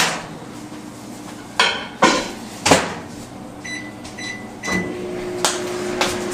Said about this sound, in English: Let me put this back in the microwave.